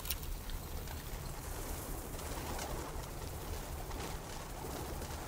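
Pigeons coo steadily through a dense, continuous wash of outdoor ambience, their soft calls blending into a constant rumble with no clear pauses and no voices.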